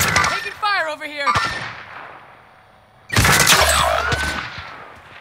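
Video game gunfire arrives in two bursts, a short volley early on and a louder sustained stretch of shots in the second half after a quiet gap, with a player's voice shouting over the first burst.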